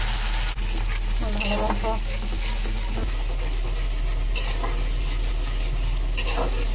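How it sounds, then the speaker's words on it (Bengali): Chili paste gravy fries in a pan with a steady, close sizzle and some stirring, while a voice speaks briefly. "সামান্য ভাজবেন"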